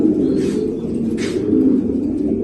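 Low, throaty cooing of a male racer pigeon in a continuous rolling rumble, close by, with faint soft chirps in the background.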